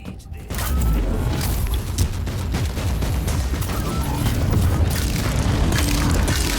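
Grenade blast in the action game Warhammer 40,000: Inquisitor – Martyr, a loud sudden boom after a brief quiet start, followed by sustained rumbling combat noise and debris crackle.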